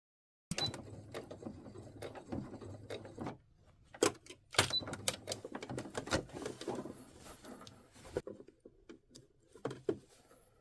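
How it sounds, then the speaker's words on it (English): A sewing machine stitching an invisible zipper into the back of a Vogue 9292 dress, heard close up in several bursts of rapid mechanical chatter separated by short pauses and handling clicks. "I am going to open it up and sew my zipper in as an invisible zipper"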